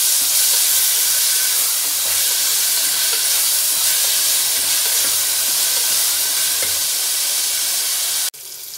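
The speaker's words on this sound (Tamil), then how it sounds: "தக்காளி நல்லா வதங்கட்டும்" Chopped onion and a large tomato sautéing in a pan for potato kurma give a loud, steady hiss and sizzle that holds evenly for several seconds, dropping suddenly near the end.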